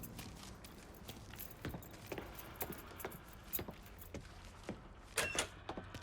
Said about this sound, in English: Keys in the other room. Grab them so we can get the hell out of here.